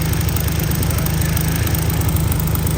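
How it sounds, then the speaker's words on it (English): A Chinese Tao Tao ATV engine runs at a steady idle after a head repair, a continuous loud, close mechanical chug with a fast even rhythm and no talk over it. "You just can't stop these engines."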